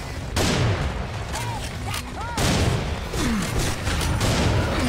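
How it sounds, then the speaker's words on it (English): Shotgun blasts and chaotic combat in the Serious Sam 4 video game, heavy booming reports layered over a constant loud roar of battle noise with scattered whooshing effects. "Shotguns are pretty strong."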